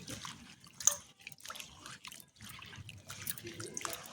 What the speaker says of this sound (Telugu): కొంచెం ఉప్పు వేసి మంచిగా కడగాలి